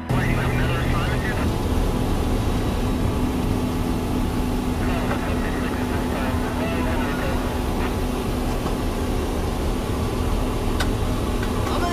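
Steady, loud drone of an airplane engine inside the aircraft just before a skydive jump, continuous throughout with a constant low hum and faint voices underneath.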